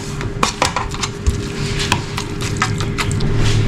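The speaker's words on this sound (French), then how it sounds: "On vient mélanger" A utensil stirs cooked onions and a spoonful of cream cheese in a pan, giving close irregular clinks and scrapes against the pan over a low steady hum, with no talking.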